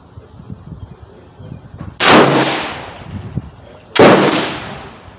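A 300 Blackout AR rifle fired at a 50-yard target, two loud, sharp reports about two seconds apart, each trailing into a ringing decay, with quieter outdoor background between them.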